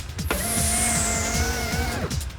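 A killer's car drives on with nobody at the wheel, giving a loud, steady engine whine with a rising pitch for about two seconds before cutting off, set against dramatic film sound.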